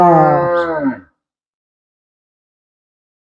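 Cattle at a livestock market in Puliyampatti, likely heifers and dairy cows bought for a farm: a single loud, close, drawn-out harmonic moo lasting about a second, followed by silence.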